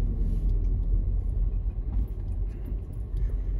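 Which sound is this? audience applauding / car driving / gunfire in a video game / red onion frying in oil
car driving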